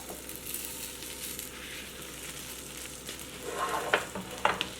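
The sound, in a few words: cauliflower paratha cooking on a skillet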